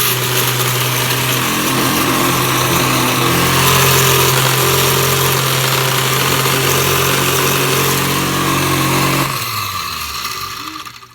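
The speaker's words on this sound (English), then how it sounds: "My blender's traveling." A blender grinds crispy rice cakes into a breakfast drink, a loud steady motor whir that runs continuously before cutting off near the end.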